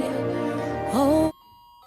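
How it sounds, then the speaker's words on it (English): Musical Christmas tree lights play a bright electronic melody of sustained tones, with a rising note near the end before cutting off abruptly into near silence. "the music that you hear is coming from my tree"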